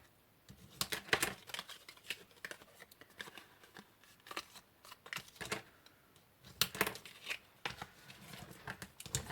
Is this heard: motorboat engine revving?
no